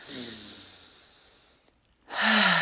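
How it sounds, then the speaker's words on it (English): A deep breath drawn in and slowly blown out during a relaxation session while standing with arms relaxed, audible breathy exhale at the start, a quiet pause, then another strong breath. "let's take a nice deep breath in"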